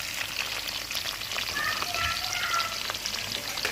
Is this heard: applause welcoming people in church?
no